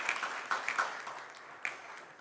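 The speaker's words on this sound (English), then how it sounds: "big round of applause for" Light, scattered clapping from a small audience at a stock exchange listing ceremony, a few sharper claps standing out over a soft patter that stays fairly quiet throughout.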